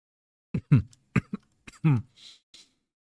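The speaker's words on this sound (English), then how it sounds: "as long as my cough doesn't get too bad" Several short, rough coughs from a person with an ongoing cough, in quick succession, close to the microphone, with a throat-clearing sound and quiet pauses between them.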